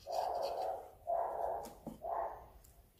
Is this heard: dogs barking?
yes